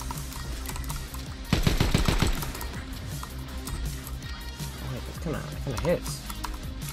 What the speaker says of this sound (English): is this the new AR?